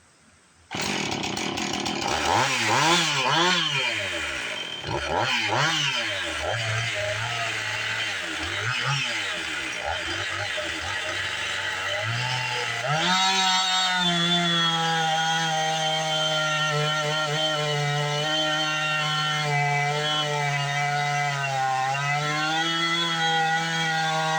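A Stihl 029 Super and a Husqvarna 450 chainsaw cutting heavy ash wood, loud and close, with the engine revving up and down through the early strokes and then holding a steady, strained high whine through the cut.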